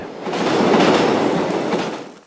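A train passes in a scene from the Korean film Peppermint Candy, a loud, steady rumble with clattering wheels that swells and then fades over a couple of seconds, with no voices.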